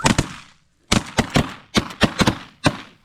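Shotguns fire during a snow goose hunt in Saskatchewan: two quick blasts, a pause, then a rapid volley of four or five close, loud shots and one final report, each with a short ringing tail.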